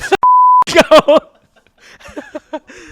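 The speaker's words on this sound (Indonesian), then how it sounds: "di bip tolong" Censor beep, a single steady half-second tone cutting into chatter, followed by people talking and laughing in short bursts.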